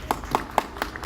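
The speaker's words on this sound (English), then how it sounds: "applause are allowed" Audience applause in a conference hall, a few sparse, evenly spaced claps, quite faint and brief.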